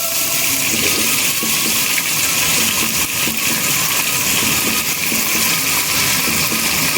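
Chopped onions hit hot oil in a home-style biryani pot, giving a loud, steady sizzling hiss that runs unbroken for the whole stretch, with no talking over it.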